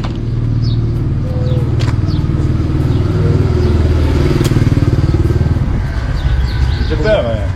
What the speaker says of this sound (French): c'est la moto.